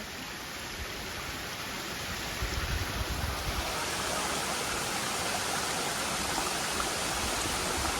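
Steady, full rush of falling water from a waterfall on Girnar mountain, loud and continuous throughout with no speech over it.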